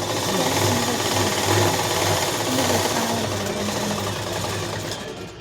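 A sewing machine runs continuously, stitching the hem of a small petticoat, a steady loud mechanical whir with a rhythmic needle chatter that carries through the whole stretch without speech.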